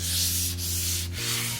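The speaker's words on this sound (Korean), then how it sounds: "본인이 만족하실 만큼 충분히 부드러운 도마가 될 때까지 사포질을 해주시면 될 것 같고요" Close, steady rasp of sandpaper rubbed back and forth over a camphor wood cutting board, with a low steady hum running underneath.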